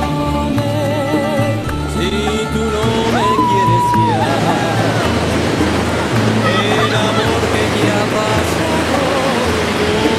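Ocean waves roll onto a sandy beach in a steady, loud wash of surf, with voices and other background sounds mixed in.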